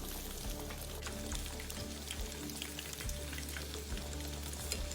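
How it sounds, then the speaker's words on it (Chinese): Coated pork belly pieces deep-fry in oil at medium-low heat, a steady crackling hiss heard close but fairly quietly, with occasional soft knocks as the pieces are turned. "再放入回潮后的肉块油炸"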